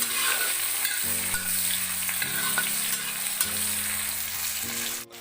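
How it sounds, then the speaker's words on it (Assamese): Onion and green chili fry in hot oil in a wok, a steady close sizzle with the scrape and shuffle of stirring every second or so, no voices. "এতিয়া এইখিনি অলপ কোমল হোৱালৈ ভাজিব লাগিব"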